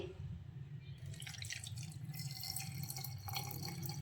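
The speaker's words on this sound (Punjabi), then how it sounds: "ਤੇ ਹੁਣ ਆਪਾਂ ਇਹਦੇ ਵਿੱਚ ਪਾ ਦਾਂਗੇ ਪਾਣੀ" Water pours and trickles into a clay pot holding jaggery, with a steady splashing gurgle over a low hum, close and continuous without talk.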